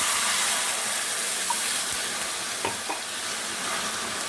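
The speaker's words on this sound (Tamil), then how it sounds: "இதில் பால் ஊற்றிடலாம்." Milk hits hot caramelized sugar in a pan, producing a dense, steady sizzle and hiss with a few faint clinks and stirring sounds, close and continuous.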